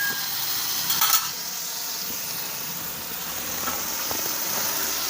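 Pav bhaji vegetables spread over a hot pan give off a soft, continuous sizzle and hiss with a few faint scrapes, fairly quiet and with no voices.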